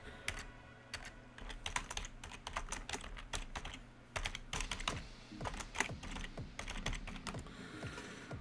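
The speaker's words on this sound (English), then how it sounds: "It's faster sometimes if I just type these things." Fast typing on a computer keyboard, with dense clusters of close key clicks in uneven bursts and a short pause midway.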